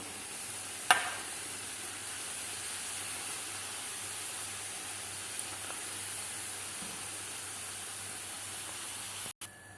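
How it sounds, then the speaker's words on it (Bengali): Puris deep-frying in a pan of hot oil, a steady low sizzling hiss running evenly throughout, with a sharp clatter near the start and no talking. "সবগুলো পরিভাবে আমি তেলে ভেজে নিচ্ছি"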